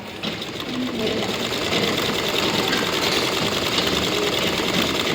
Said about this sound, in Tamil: கீழ்ப்பக்கமாக 1/4 இன்ச்சுக்கு ராங் சைடில் 2 ராங் சைடையும் சேர்த்து தையல் கொடுத்துட்றீங்கடா